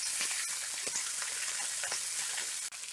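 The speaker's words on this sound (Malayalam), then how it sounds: "മുരിങ്ങയുടെ ഇലയും ഇട്ട് കൊടുക്കാം. നന്നായി ഇളക്കി കൊടുക്കാതെ" Fresh drumstick leaves sizzle in a hot frying pan for a thoran, a close, continuous crackling hiss broken by light scraping as they are stirred.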